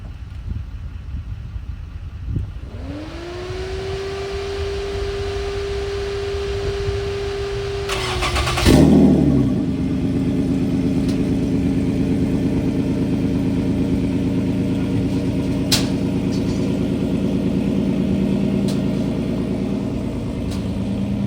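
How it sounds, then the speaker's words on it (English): A Dodge Hellcat's engine cranks and fires up, gives one loud rev, then settles into a deep, steady idle rumble that carries on alone. "Coming here with the Hellcat."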